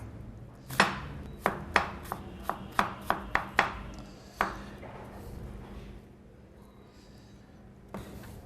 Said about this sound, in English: I'm going to prepare my onion firstly. I'm trying to slice this quite thinly so it'll cook quickly.